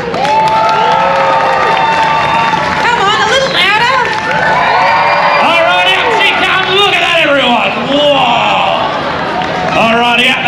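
At the Brisbane show after a sheep shearing demonstration, a close, loud crowd of children and adults cheers, whoops and shouts in excited overlapping bursts for about ten seconds.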